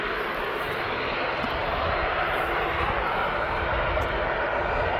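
A passenger jet arrives at East Midlands Airport, its engines a loud, steady, broad roar that fills the whole stretch without a break.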